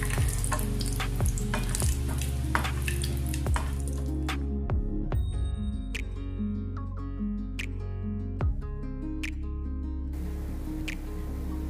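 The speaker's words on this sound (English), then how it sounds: "In a heated pan, add 2 teaspoons ghee, add cashews and raisins and roast them till it turns light golden." Cashews and raisins roast in ghee in a heated pan, giving a steady sizzling fry with occasional soft stirring clicks, under a continuous tonal music bed.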